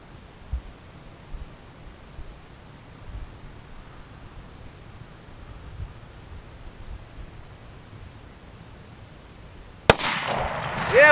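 A Tikka T3X Lite Veil Wideland .308 rifle fires a single loud, sharp shot near the end of a long quiet outdoor stretch, and its blast rolls on briefly afterward.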